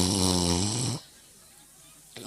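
A voice imitates an old man snoring with one long, loud, rasping snore that stops abruptly, leaving a brief near-silent pause.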